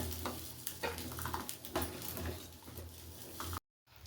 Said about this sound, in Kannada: ಇವಾಗ ಇನ್ನೊಂದು ಸಲ ಚೆನ್ನಾಗಿ ಮಿಕ್ಸ್ ಮಾಡ್ಕೊಳ್ಳೋಣ